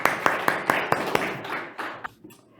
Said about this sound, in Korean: 오늘도 우리에게 이 복음을 들려주신 주님께 감사의 박수 드리겠습니다